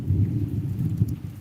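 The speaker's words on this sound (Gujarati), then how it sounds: "વરસાદ ચાલુ જ છે ભાઈ" Heavy rain pours down on Jaliya village, Gujarat, in a steady, dense roar, with a low rumbling undertone throughout the short moment.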